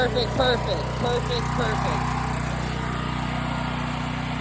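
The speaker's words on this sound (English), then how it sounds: "hold it in and let it crank and then slowly pull the choke lever towards you" Portable generator engine running steadily with a buzzing mechanical drone while the choke is eased off after starting, close and loud, with voices speaking over the first part.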